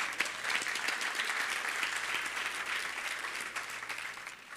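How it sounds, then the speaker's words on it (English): Lecture audience at a foundation annual lecture gives the speaker a round of applause, a fairly quiet, steady patter of many hands clapping that tapers gently toward the end, with no talk over it. "I think he deserves a big round of applause."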